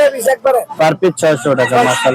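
Native village chickens at a rural poultry market cluck and crow loudly and close together in a dense, overlapping chorus.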